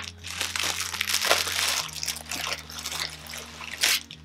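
Plastic packaging bag from a drugstore makeup haul crinkling and crunching close up, continuous rustling handled bursts with little talk.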